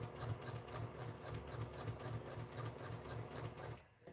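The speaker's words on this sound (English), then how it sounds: "So I'm just going to sew them one more time." A sewing machine runs steadily, re-stitching narrow strips of quilt fabric with a fast, even mechanical whir and a regular pulsing rhythm close by. It stops abruptly near the end.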